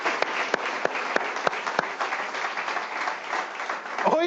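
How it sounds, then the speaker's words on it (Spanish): A church congregation breaks into steady applause, a dense wash of clapping with a few sharper individual claps standing out early on, holding at an even level throughout with no talk over it. "Denle un aplauso, Señor."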